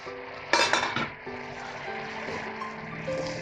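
A pot lid is lifted after simmering a Sri Lankan drumstick (murunga) curry with sprats, giving a short cluster of metallic clinks and clatter, then a quiet simmering hiss with a faint hum.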